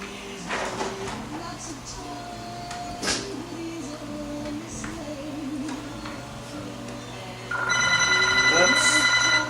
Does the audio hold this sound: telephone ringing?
yes